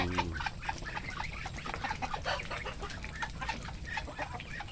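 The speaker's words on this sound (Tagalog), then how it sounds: "nag-away ang manok at pato. Ayan. Ayan, nag-away dahil sa pagkain." Chickens and ducks squabble over feed in a farmyard, a busy overlapping jumble of clucks, squawks and quacks, close and continuous with no talk.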